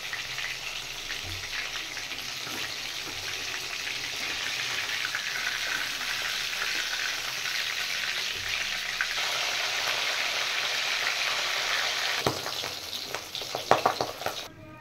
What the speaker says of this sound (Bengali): মাছগুলো আমি বেশি ভাজবো না, হালকা ভেজে নিচ্ছি।